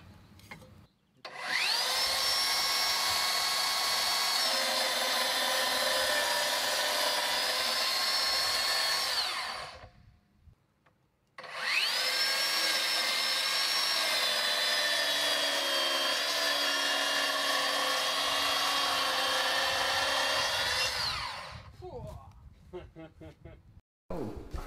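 A power saw fitted with a four-tooth blade cuts during wood-frame house construction, with two loud sustained whining cuts of about eight and ten seconds, separated by a short pause.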